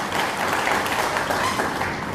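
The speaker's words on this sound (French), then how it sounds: "je vous prie d'applaudir et d'acclamer très fort" A large audience at a public address in Mali applauds in honor of the armed and security forces, a thick, steady roar of clapping that stays loud throughout.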